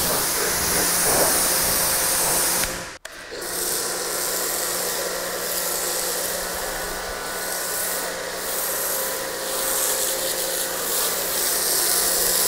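A Swissvax wash mitt rubs wet across a car body during a hand wash, giving a loud continuous close swishing hiss that breaks off briefly near the start, then resumes steadily.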